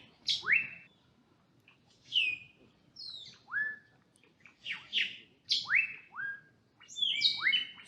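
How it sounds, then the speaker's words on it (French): Birds sing in a leafy park in Mexico, giving repeated clear, descending whistled chirps that come close and fairly loud over a quiet background. "ces chants d'oiseaux là"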